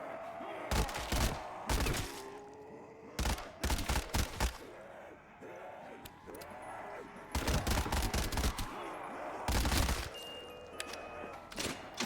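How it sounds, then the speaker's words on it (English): A Tommy gun in a VRChat zombies shooter fires in repeated sharp bursts, loud rapid volleys separated by short pauses, with brief fainter sounds between strings of shots. "Tommy gun."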